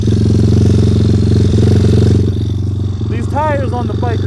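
Pit bike motorcycle running on a desert track, a steady loud engine drone that drops slightly partway through, with someone talking over it near the end.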